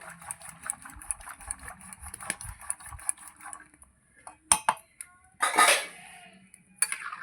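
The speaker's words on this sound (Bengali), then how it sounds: "আমি ডালের কাটা দিয়ে ঘুটে নিচ্ছি" Cooked dal being mashed in a pot with a dal whisk makes quick, rhythmic metallic clatter. The clatter then thins to scattered clinks and a brief louder scrape near the end, all close and without voices.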